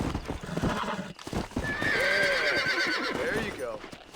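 In the Red Dead Redemption remastered video game, a stallion being broken in gives a loud, drawn-out whinny amid rhythmic hoof clip-clops, with a voice speaking around the horse sounds.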